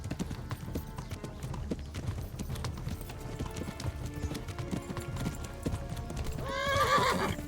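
Hoofbeats of a galloping horse in the medieval video game Kingdom Come: Deliverance, a steady rapid clip-clop with neighing and whinnying, rising into a louder burst near the end.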